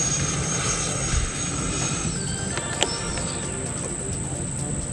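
An E-flite F-16 RC jet flies a Cobra spin, its electric ducted fan holding a steady high-pitched whine at a distance, with a brief sharper swell partway through.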